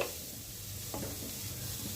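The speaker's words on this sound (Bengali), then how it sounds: "ফুলকপির ফুল অংশটা কুড়ে নিয়ে সেটা ভালো করে সর্ষের তেলে ভেজে নিচ্ছি" Cauliflower florets frying in mustard oil in a pan sizzle softly and steadily, with a few faint stirring scrapes near the middle.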